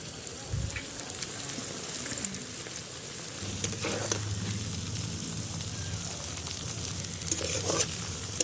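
Onion and tomato fry in a pan with a continuous crackling sizzle and occasional stirring scrapes, close and fairly loud throughout.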